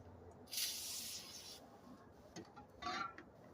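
A short spray of brake parts cleaner onto a rag hisses for about a second, followed by a couple of briefer, fainter spritzes, close up in a quiet room.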